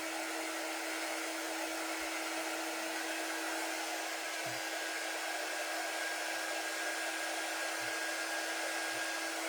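A hair dryer blows steadily and evenly on a craft piece for the whole stretch, a constant broadband whoosh with no talking over it.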